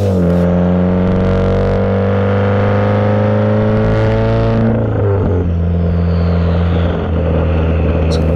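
A manual car's engine hums steadily in fourth gear while driving, a loud droning tone holding constant before the pitch drops slightly, with road rumble underneath.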